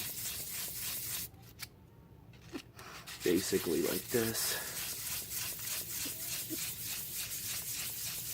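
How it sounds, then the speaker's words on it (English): Fine, rhythmic scratchy strokes of sandpaper rubbing a small piece of an old CD to make a guitar pick, steady and close, while a person says a few words partway through. "Keep on sanding on both sides"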